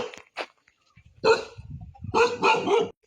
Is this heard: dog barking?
yes